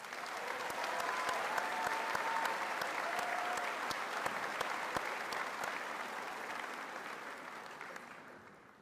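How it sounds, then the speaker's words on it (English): Crowd applauding graduating students at a college commencement ceremony, a sustained even wash of clapping from a large audience, fairly distant and fading toward the end, with a few faint cheers. "would you join me in congratulating these groups of students one more time with a round of applause?"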